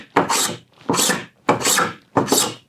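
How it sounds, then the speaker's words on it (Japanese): Small Japanese hand plane cutting wood, four crisp rasping strokes in an even rhythm, loud and close with short pauses between passes. "こんな感じで削れるし、音がいいですよね"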